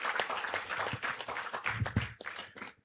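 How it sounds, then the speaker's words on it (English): An audience at a national labour conference gives the Vice President a round of applause, with uneven clapping that swells and then thins out near the end. "Can we give him a round of applause?"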